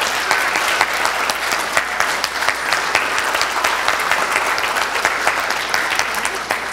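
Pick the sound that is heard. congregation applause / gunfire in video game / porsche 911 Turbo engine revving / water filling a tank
congregation applause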